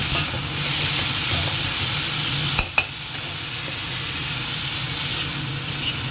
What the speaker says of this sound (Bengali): একটু ভেজে নিয়ে দেখে নেব